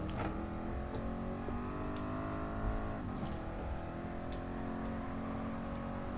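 Ford Mark IV race car in GT Sport powering out of a corner at Le Mans, its engine note climbing steadily and loud with dense harmonic whine, briefly dipping as revs settle before surging on.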